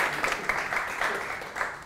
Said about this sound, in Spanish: vamos a empezar a aplaudir de nuevo